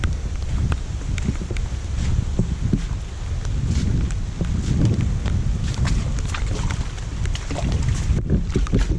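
Strong gusting wind from Hurricane Dorian in Hampstead, North Carolina, roaring continuously into the microphone with heavy low rumble and buffeting, no voices.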